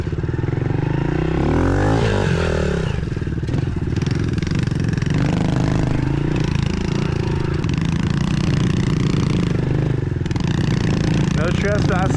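Pit bike motorcycle ridden along a route to the beach, its small engine revving and droning loudly and steadily throughout, with clattering over rough ground and a voice speaking over it.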